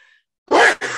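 A single sharp human sneeze, close and loud, in two quick bursts after a brief pause during a sermon setting.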